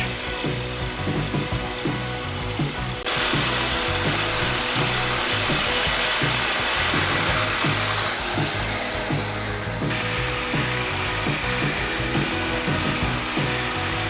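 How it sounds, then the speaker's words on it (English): A power tool cuts through stubborn trailer hitch bolts on a Jeep YJ/TJ during a rear bumper install, a loud, continuous grinding whine that grows harsher after a few seconds and shifts again later, with no talking. "Now I got to cut off some of the bolts that wouldn't come off that trailer hitch."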